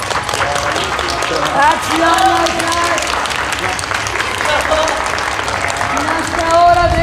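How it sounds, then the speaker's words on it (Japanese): A crowd, including children, applauds a J-League footballer's entrance at a match against primary school kids, with lively clapping under excited talk and cheering voices. "拍手お願いします、拍手で。"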